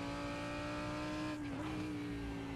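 Racing car in a VR racing game at Monza's Lesmo corners, with a steady high engine whine, a brief dip and wobble in pitch as the rear steps out in oversteer, and a faint tire scrub throughout.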